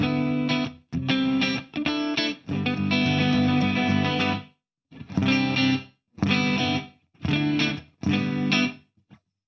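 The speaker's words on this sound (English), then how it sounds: "So you get a gated reverb." Distorted electric guitar through a TC Electronic Hall of Fame 2 pedal on a gated reverb setting, chords struck in bursts that cut off abruptly into silence with no reverb tail, loud and alone.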